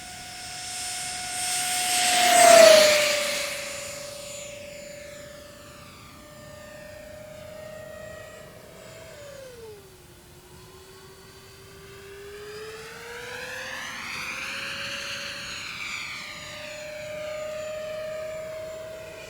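An E-Flite Airbus A320neo twin EDF radio-controlled jet makes a full-throttle low pass, its loud rising whine surging past close by, then dipping and swelling again as it climbs and turns away outdoors.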